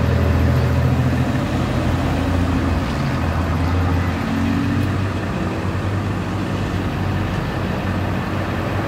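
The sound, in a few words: busy traffic with cars at a parking area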